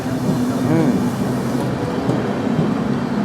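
A Howrah–Bengaluru superfast express train runs through dense fog, heard as a steady, loud rumble of wheels and carriage noise that carries on throughout, with some faint voices beneath it.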